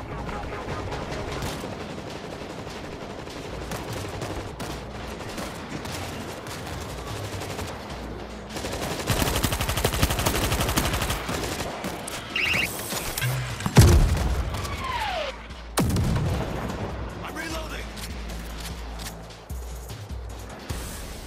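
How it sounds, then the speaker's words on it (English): Mortar and gunfire in the video game World War Z, in a snowy Kamchatka level aboard an old cruise ship: a steady crackle of rapid firing builds into dense bursts, with one heavy booming blast near the middle and more volleys after. "Mortar set! Fire when ready!"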